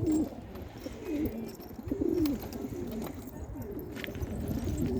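A flock of pigeons trained at a loft, with soft repeated cooing close by over a steady outdoor rumble and light fluttering, and no talking.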